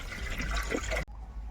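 Water running from a pipe on a farm, a steady close splashing flow that cuts off sharply after about a second, leaving a faint trickle.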